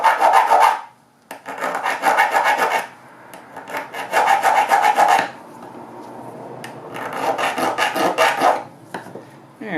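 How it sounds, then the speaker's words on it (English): A file scoring notches into the bottom of a small tool blank gives repeated harsh rasping strokes in a few bursts of one to two seconds, close and fairly loud, with short quiet gaps between them and no talking. "I'm going to go ahead and score the bottom of the file real fast."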